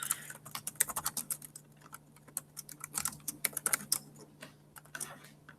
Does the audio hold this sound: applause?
no